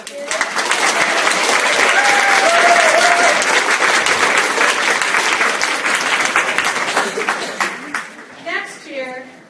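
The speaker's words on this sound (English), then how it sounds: "Let's give them all a round of applause." Audience applause closes a junior high leadership conference, a dense, loud wash of clapping that holds for several seconds, thins toward the end and fades out, with some voices mixed in.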